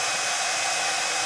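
A hair dryer runs steadily nearby with a continuous breathy airflow roar and a constant motor hum, no pauses and no speech.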